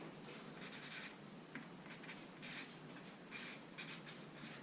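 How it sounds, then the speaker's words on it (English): A pen scratches across paper as a value is jotted down during a thermodynamics calculation, quiet bursts of scribbling strokes in short uneven groups. "Write that value in."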